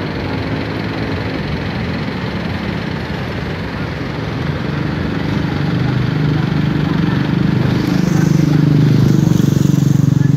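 A motorcycle engine drones steadily nearby on a bridge near Mount Semeru covered in thick smoke from a cold lahar, its rumble growing louder and heavier toward the end.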